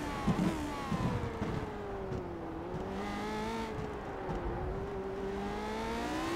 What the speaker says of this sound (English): the Ford Cosworth in that car is just purring right now for Mark Pickford